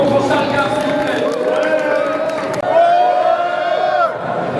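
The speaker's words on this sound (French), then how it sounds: "Faites un tonnerre d'applaudissements pour Charles Gane, s'il vous plaît" A large audience cheers and applauds for Charles Gane at a live talk on organic content. The crowd noise is loud and sustained, with voices and whoops throughout, and the crowd swells again toward the end.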